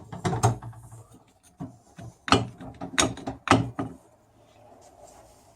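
A sprag clutch hub spinning inside a Mercedes 722.5 automatic transmission on a teardown bench gives a run of loud, close mechanical clicks and ratcheting clatters in several bursts, then trails off into quiet.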